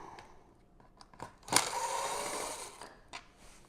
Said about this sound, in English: 3 Phillips head screws that are holding it together, so we're just going to take those off